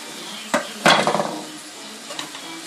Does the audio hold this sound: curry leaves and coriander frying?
yes